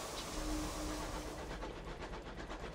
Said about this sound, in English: I love the little train noise I make